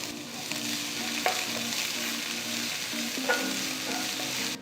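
Finely chopped onion and cumin seeds sizzle in about three teaspoons of oil in a pan for potato masala, a close, even frying hiss with a couple of light spoon knocks and no speech.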